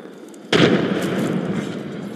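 A frag grenade in the Apex Legends battle royale game bursts with a sudden loud boom after a quiet moment, followed by a rumbling, debris-filled tail.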